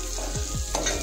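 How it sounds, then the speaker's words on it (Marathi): Turmeric fries in hot oil as a base for spinach soup, making a close, continuous sizzle with a few soft stirring knocks over about a second. "तर हे ना तेलामध्ये चांगलं फ्राय करून घेऊया।"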